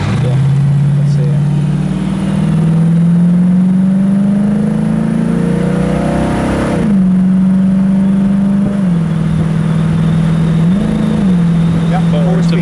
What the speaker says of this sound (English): At 65 mile an hour, this car handles the road perfect.